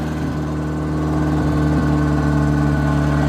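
A Chevy Tracker engine idles steadily after a spark plug fix, a continuous, even mid-pitched hum with no talking.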